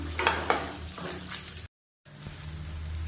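Dried red chillies and a small lump of tamarind sautéing in a pan for tomato dosa chutney give a short, steady sizzle with a couple of stirring scrapes, broken by a brief gap of silence.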